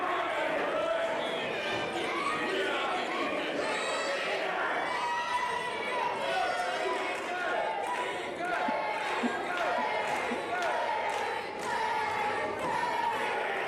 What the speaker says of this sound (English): Crowd still chanting loud for legendary Larry D.